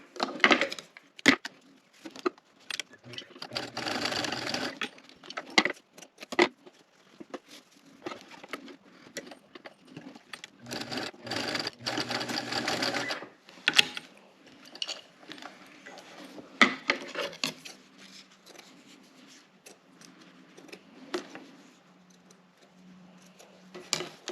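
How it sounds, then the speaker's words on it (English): A sewing machine clatters in bursts of rapid stitching on a bag, starting and stopping several times, with quieter gaps and handling noises between runs. "while we're at the sewing machine"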